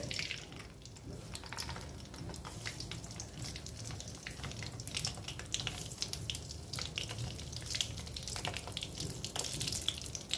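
Mustard seeds crackle in hot oil in a pan, a dense, continuous sizzle full of sharp pops that stays close and steady throughout, with no talking.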